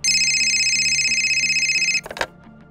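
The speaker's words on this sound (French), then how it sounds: "J'espère que c'est bien le téléphone de John Wick" A telephone rings with a steady electronic trill that repeats in rapid pulses for about two seconds, then cuts off with a clatter as the handset is picked up.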